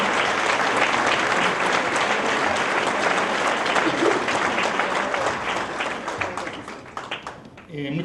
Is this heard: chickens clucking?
no